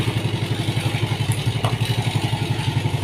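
A repaired Honda Vega motorcycle engine runs steadily at idle, its rapid, even exhaust pulses thumping close by, with a little light mechanical clatter on top.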